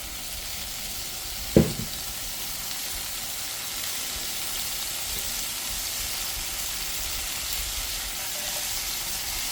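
Olive oil sizzles in a pan beside salmon and green beans, a loud, even hiss that runs throughout, with one short clunk early on, close and steady, with no talk.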